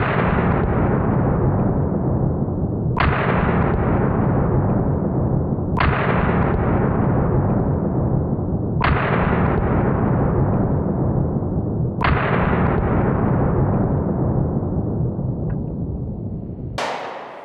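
Six sharp, loud gunshots from a Glock 10mm pistol with a 4.6-inch barrel, fired singly at an even pace about three seconds apart, each crack ringing out with a lingering echo outdoors.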